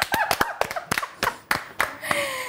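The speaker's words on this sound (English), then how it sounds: "Clap for me. Clap." Sharp, close hand claps at an uneven rhythm, around ten of them, with voices and laughter mixed in between.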